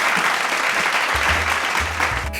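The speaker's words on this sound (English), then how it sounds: "Let me hear a round of applause from the audience." Audience applause at a live interview event, a steady wash of clapping from a crowd that fills the whole stretch at an even, fairly loud level with some low rumble partway through.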